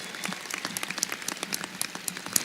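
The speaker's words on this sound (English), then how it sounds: "Let's give them one more round of applause" An audience at a South Mountain Community College commencement ceremony applauds, a dense, even patter of many hands with sharp individual claps standing out, steady throughout.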